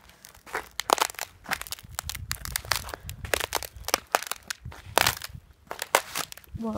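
Ice coating a driveway crushing and cracking beneath footsteps, dense close crunches and sharp snaps in an uneven walking rhythm, loud and continuous with short pauses.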